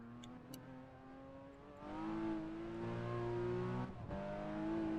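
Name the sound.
car accelerating hard through a corner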